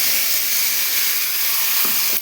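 Spice paste of tomato, cumin, mustard and Kashmiri chilli powder dropped into hot oil sizzles in a loud, steady hiss that fills the whole stretch, with a brief clatter near the end.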